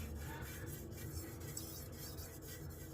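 Hand sharpening of a knife edge on a TS Prof Kadet Pro sharpener, a faint, close, repeated rasping stroke against the stone.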